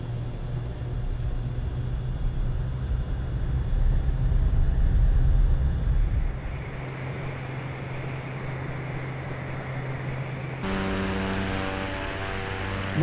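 A propeller airplane taking off in a flight video game, a steady droning engine with a strong low hum that swells and then shifts tone, heard alone without any talk.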